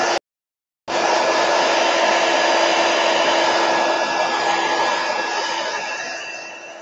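A hair dryer blows over wet watercolor paint, a brief burst then a pause before a loud, steady whooshing roar that runs on and eases slightly toward the end, close by with no talk.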